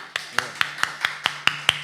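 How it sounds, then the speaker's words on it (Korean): Rhythmic clapping at a Sunday church worship service as a congregation gives unanimous approval: about eight sharp, evenly spaced claps in under two seconds, fairly close, with faint voices beneath. "만장일치 박수"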